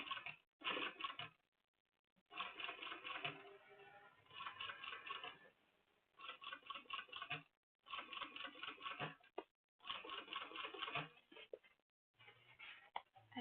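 A sewing machine with a cylinder arm stitches a leather tote bag in repeated bursts of rapid mechanical ticking, each run lasting one to two seconds and separated by short pauses, close and fairly quiet.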